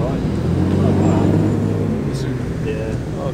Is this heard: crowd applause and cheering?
no